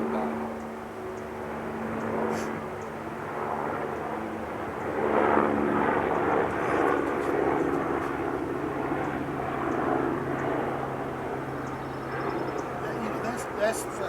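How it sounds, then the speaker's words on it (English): A helicopter drones overhead for a long stretch, swelling and fading gradually, with a voice talking faintly underneath. "Wait for the helicopter to go by."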